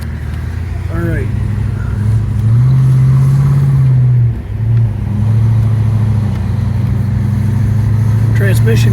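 A 1993 Ford Mustang convertible driving on a road, its engine note climbing and settling as the transmission shifts, heard from inside the car with steady road noise and a person talking briefly.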